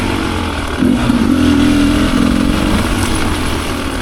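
A 2024 Beta 300RR Race Edition dirt bike on single-track trail, its engine close and loud, swelling into a steady buzzing rev after a brief lower idle, then easing back slightly near the end.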